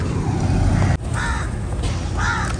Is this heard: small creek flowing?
no